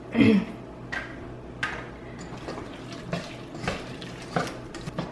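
Water is poured into a pot of potato and vegetable curry as it cooks, with a brief louder splash at the start followed by faint, scattered clinks and ticks.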